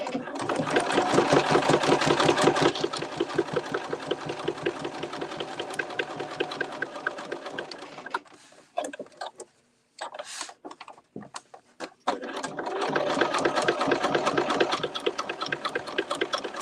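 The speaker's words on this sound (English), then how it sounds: "I'm going to top stitch just 1/8 of an inch around the edge from the top to kind of give the beak some definition" A sewing machine top stitching an eighth of an inch around the edge of a fabric goose beak, running in long steady rapid bursts with a short stop and a few stutters midway, close and loud.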